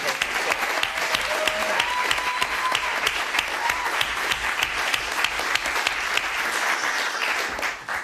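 A room full of people at a Williams College Class of 1991 entrepreneurship roundtable gives a sustained, dense round of clapping for Melissa, steady and loud from start to finish before easing off.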